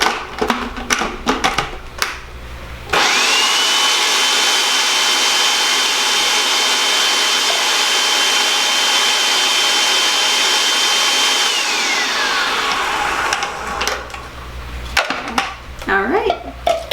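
A blender whirs loudly and continuously for about nine seconds as it purees tomatoes for homemade pizza sauce, with kitchen clatter and handling noises before and after the run.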